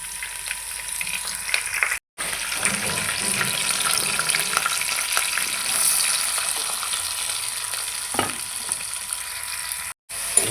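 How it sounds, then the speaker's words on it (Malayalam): Onion, green chilli, ginger and garlic sizzle steadily in hot oil for a Kochi-style fish curry, a loud continuous frying hiss with brief stirring scrapes and two short breaks. "ഇതിലേക്കുള്ള സവാള പച്ചമുളക് ഇഞ്ചി വെളുത്തുള്ളി അപ്പിലേക്ക് ഇട്ട് കൊടുക്കാം"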